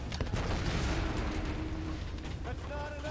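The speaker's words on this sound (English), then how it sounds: "Lots of explosions going on." Rumbling explosions and booms in the video game Tomb Raider roll continuously under a dense, noisy mix, heavy low-end blasts with crackling debris.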